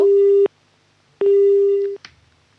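After a radio caller's line drops, a telephone busy signal sounds as two loud, steady beeps separated by a short gap, ending with a faint click.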